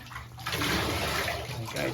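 Running water splashes and rushes into a tub while a Basenji dog is bathed, close and steady, with a person talking quietly over it.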